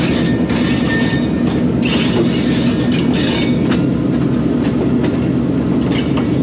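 A train rolls along the single-line railway between Lahore and Rawalpindi, heard from on board as a loud, steady rumble with rhythmic clickety-clack from the wheels and occasional brighter metallic squeals.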